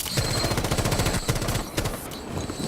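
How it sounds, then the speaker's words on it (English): Old T-Hunt bomber sound in Rainbow Six Siege, a fast stuttering string of loud rhythmic pulses, like rapid gunfire, filling the brief clip without talk. "Old T-Hunt bombers. Do you remember the sound?"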